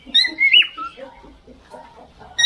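A male cockatiel gives loud, shrill whistling calls and chirps in quick bursts, close by, with softer chattering notes between them.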